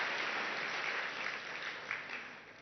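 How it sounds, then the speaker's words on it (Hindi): An audience claps continuously at a spiritual talk, a steady even wash of applause that tapers off slightly at the end, with no voices over it. "ताली बजाइए उनके लिए।"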